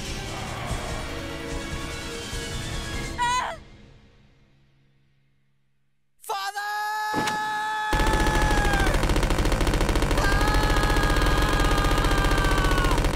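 Machine gun fire in the Resident Evil Code Veronica video game, a sustained rapid rattle of shots playing loud and steady after a brief quiet stretch, with harsh electronic tones mixed in.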